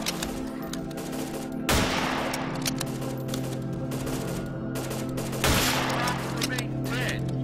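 Sustained gunfire in the shooter BrainBread 2, a dense rattling automatic stream that swells into louder bursts twice, steady and close, with no speech over it.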